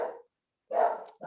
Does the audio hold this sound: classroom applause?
no